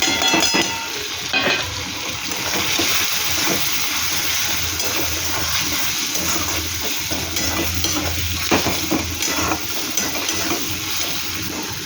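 Chili, turmeric, coriander and cumin sizzle steadily in a hot pan with oil, a continuous loud frying hiss broken by the scrape of stirring, with no one speaking.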